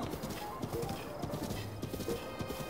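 Horse hooves clip-clopping steadily in Zelda: Breath of the Wild, a continuous run of soft, even hoofbeats at moderate volume with no talk over them.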